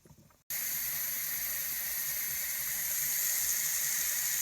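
Steam vents from a Nesco electric pressure canner processing jars of potatoes, starting abruptly after a brief quiet moment and then hissing loudly and continuously, close by.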